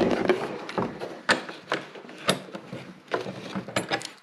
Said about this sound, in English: Now I'll be using these wrenches to tighten this nut with the metal washer.